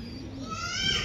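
A pigeon on a rooftop perch gives a single soft, throaty coo lasting about a second, close and alone.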